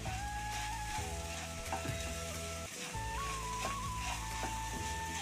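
Prawn gongura curry being stirred in a pan, close sizzling and scraping strokes under a background of steady tonal hum and music-like drones.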